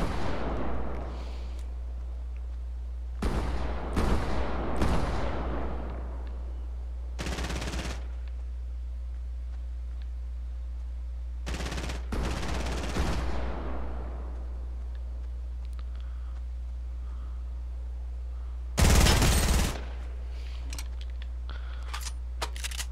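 Bursts of gunfire from enemies in a shooter video game, several sharp volleys spread across the stretch with quiet gaps between, loud and close over a steady low hum.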